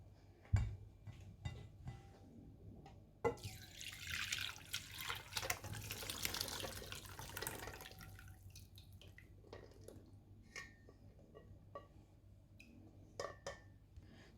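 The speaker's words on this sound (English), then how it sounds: "So what I'm going to be doing now is to get my strainer and a clean bowl to strain this out." Liquid strained through a strainer into a clean bowl, heard as a steady pouring and trickling stream with scattered drips and clinks, loudest in the middle and thinning to faint drops toward the end.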